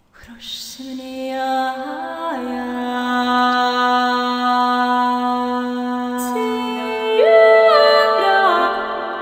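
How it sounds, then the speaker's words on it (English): Sampled choir from a virtual vocal library: a pre-recorded melodic phrase followed by voices built from vowels and syllables, singing sustained, gliding notes that change pitch in slow steps and grow louder toward the end, with no talking. "pre-recorded melodic phrase, and here the voices begin that are built from the vowels and syllables"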